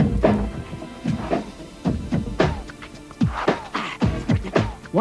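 Human beatboxer imitating a drum machine with mouth, nose and throat, producing a dense, loud stream of kick-like thumps, snare-like snaps and hissing hat sounds in a fast, driving rhythm.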